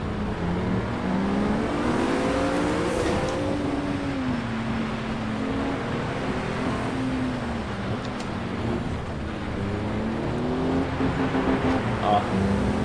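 A 2017 Acura NSX races through heavy rain in Project CARS 2, its engine droning steadily and rising and falling in pitch. Spray and road noise run continuously under it.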